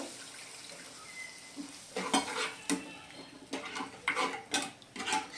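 Water poured into a pan of raw banana curry: a soft background hiss, then a run of sharp clinks and scrapes of a utensil against the pan, coming in irregular bursts, close and moderately loud.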